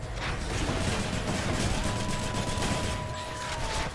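Video game gunfire keeps up a continuous, loud rattle of rapid shots for about four seconds, with a faint mechanical whine underneath.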